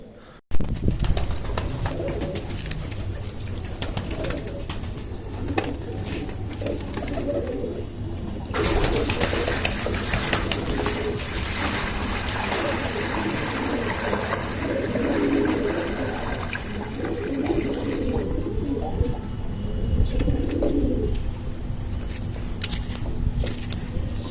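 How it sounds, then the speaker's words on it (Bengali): Pigeons coo steadily nearby while being bathed in potassium-treated water against a constant wash of splashing water, with soft rounded calls repeating through the whole stretch. "আজকে পায়রাগুলোকে পটাশিয়ামের জলে স্নান করতে দেবো কারণ এদের গায়ে খুব পোকা হয়েছে"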